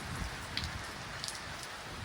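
Light rain falls steadily in rural Punjab, a soft, even patter of drops with a few faint, brief ticks standing out over the quiet wash.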